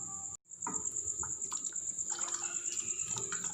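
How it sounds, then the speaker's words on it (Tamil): Water poured into a pan while making Tamil-style garlic soup, a steady splashing wash with a constant high insect-like whine in the background. "நான் 3 டம்ளர் தண்ணி சேர்த்துக்கிறேன்."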